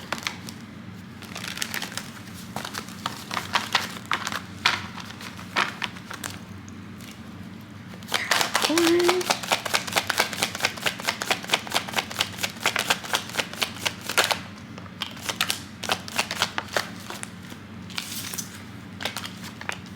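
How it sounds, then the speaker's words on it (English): Steady crisp riffling and flicking of tarot cards being shuffled, with a dense burst of rapid snaps in the middle and no talking. "y'all see me shuffle stuff"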